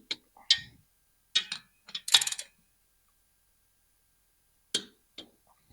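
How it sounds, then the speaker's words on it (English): Torque wrench tightening pump bolts on a TH350 transmission: several brisk metallic ratcheting clicks in quick clusters, then a long quiet gap before a couple of final sharp clicks, close by. "we're going to go ahead and set our torque wrench to 15 foot-pounds and go ahead and torque her down"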